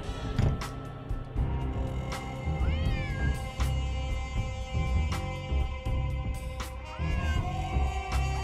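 A cat in a Nancy Drew mystery game meows several times in rising, wavering calls over a steady background of game music and ambience.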